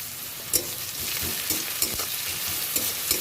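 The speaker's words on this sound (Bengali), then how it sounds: "পেঁয়াজটা একটু নেড়ে চেড়ে ভেজে নিতে হবে।" Onions frying and being stirred in a pan with salt, a steady close sizzle broken by periodic scraping stirs, no talking.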